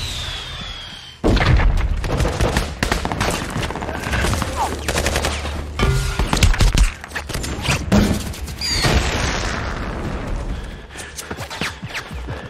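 Battle gunfire from the film 13 Hours: loud bursts of automatic fire and booming impacts crowd together in a dense, chaotic firefight with heavy rumbling beneath.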